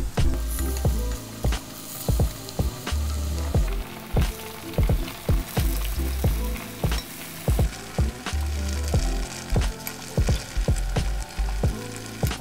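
Burro banana plantains fry in a pan with a steady sizzle, broken by a quick run of sharp scrapes and taps as the pieces are stirred and turned. No one speaks.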